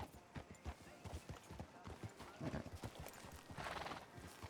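Horse hooves clip-clop in a steady rhythmic trot close by in the video game Red Dead Redemption 2, with a brief whinny and indistinct voices in the background.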